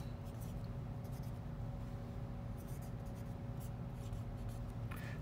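A pen writing math equations on paper gives soft scratchy strokes in short irregular bursts, faint and close over a steady low electrical hum.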